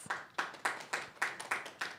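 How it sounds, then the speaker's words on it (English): A small audience at a music festival in a Steinway piano gallery claps for the adjudicator. Sparse, rhythmic hand claps land about every quarter second in a short, steady round, close and alone. "Let's give her a round of applause"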